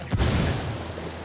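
A frag grenade detonates in Ghost Recon Wildlands co-op play: one loud, deep boom with a short rumbling tail.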